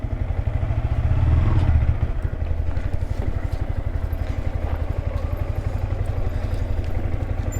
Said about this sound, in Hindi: बाइक का नेम MT-15।